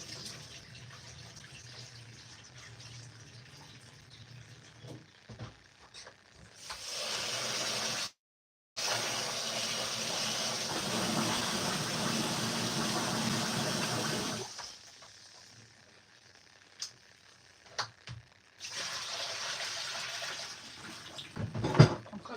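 Tap water runs steadily into a pot to rinse rice for fried rice, with pauses and a few changes in flow, heard close and fairly loud with no talking.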